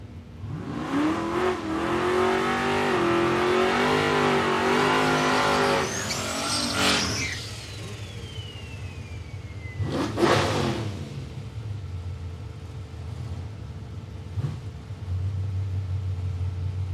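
Drag racing car with a T56 six-speed gearbox launching hard at a raceway, engine revving up through rising pitch before a gear change, then more passing cars and a lower rumble, loud and close.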